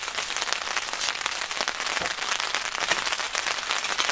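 Heavy rain drums on a two-room shelter tent at a forest campsite, giving a continuous crackling patter close at hand, with a few louder drop hits mixed in and no speech.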